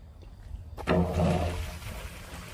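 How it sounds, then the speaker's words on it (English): A half-horsepower sump pump kicks on and water rushes out of the discharge in a steady, close gush that starts abruptly after a quiet moment, with no talking. "that's moving some water"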